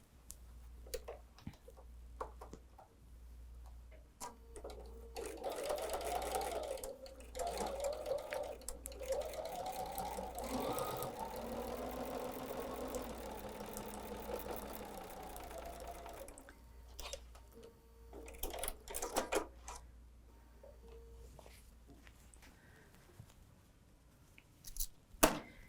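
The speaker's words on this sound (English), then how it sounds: "I'm going to go to the sewing machine now and I'm going to sew this corner to corner" Sewing machine stitching quilting fabric corner to corner on a folded star block, a steady rapid run of needle strokes with soft clicks and handling noise before and after.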